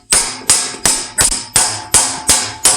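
Hammer blows shape a steel Japanese greave for a bohurt armour kit, eight sharp metallic strikes at a steady, even rhythm, loud and close with short ringing decays.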